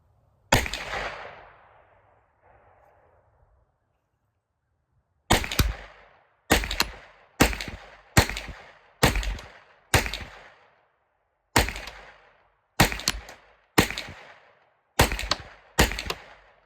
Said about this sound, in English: first off will be the AR9 15 rounds out of the AR9